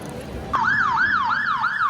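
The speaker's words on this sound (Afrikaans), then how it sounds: "Ja, gaan die brandweer." A fire engine siren wails in a steady rising and falling cycle, starting abruptly and staying loud and close throughout.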